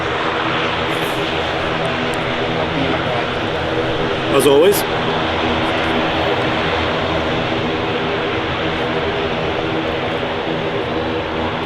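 A Loganair ATR 72 turboprop at Manchester Airport gives off a loud, sustained propeller drone with a steady engine hum, heard nearby outdoors while a person speaks briefly over it.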